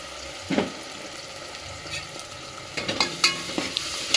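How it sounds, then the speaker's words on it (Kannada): Ground masala frying in a hot tempering, with a steady background sizzle and several sharp scraping stir strokes near the end, close and moderately loud with no talking. "ಒಗ್ಗರಣೆ ಹಾಕಿರೋದು ಚೆನ್ನಾಗಿ ಫ್ರೈ ಆದಮೇಲೆ ರುಬ್ಬಿರೋ ಮಸಾಲೆ ಆ್ಯಡ್ ಮಾಡ್ಕೊಳ್ಳಿ"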